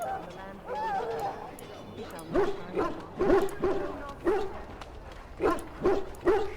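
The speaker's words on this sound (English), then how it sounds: "Lots of doggies." A pack of dogs barks in the Dragon Age Origins video game, with repeated yips and woofs in a steady rhythm over a background of game ambience and a speaking voice early on.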